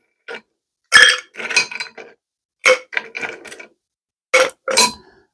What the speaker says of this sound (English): add a few cubes of ice